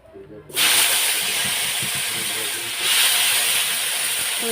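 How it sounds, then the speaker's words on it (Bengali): Papaya and green banana land in hot oil seasoned with cumin, and after a short quiet start a loud, sudden sizzle bursts out and carries on steadily, swelling again partway through. "এখন আমি সব সবজিগুলো দিয়ে দেবো যে পেঁপে আর কাঁচকলা"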